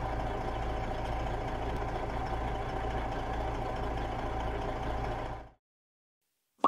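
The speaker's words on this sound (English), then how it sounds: "This is a delivery van." A delivery van's engine idles with a steady low rumble, then cuts off abruptly into silence, followed by a brief click.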